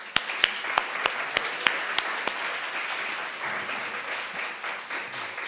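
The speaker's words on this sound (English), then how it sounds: "join me in giving the panelists a round of applause" A university panel audience applauds the panelists. Several sharp, evenly spaced claps stand out at first, then a softer wash of clapping carries on at moderate volume.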